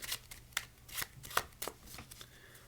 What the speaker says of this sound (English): We will shuffle in.